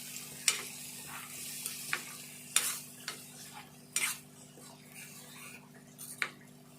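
Spoon stirring spice paste into a simmering egg curry in a pan, with scattered sharp scrapes and taps of the utensil against the metal over a steady low hum and soft bubbling, no voices.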